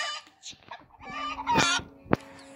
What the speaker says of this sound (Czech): Slepičky.